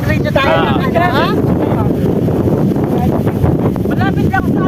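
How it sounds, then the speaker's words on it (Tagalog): Strong wind roars and buffets the microphone in a constant low rumble in a park while people talk underneath it. "Lakas kasi hangin eh."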